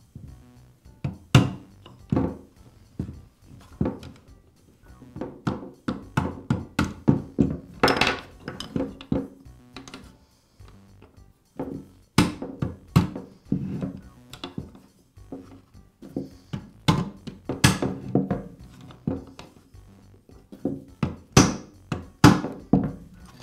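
Repeated sharp metallic taps of a socket driving a retaining ring onto the lower shaft of a Troy-Bilt string trimmer, coming in irregular bursts of close, loud knocks with short pauses between groups.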